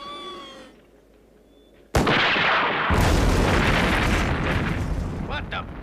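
Sudden loud explosion boom from demolition at an old research center in the Thunderbirds TV series, a heavy blast followed by sustained rumbling roar after a quiet stretch.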